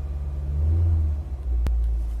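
A Honda Brio with its air conditioning and blower switched on runs at a steady idle, a low even rumble close by, interrupted by one sharp click.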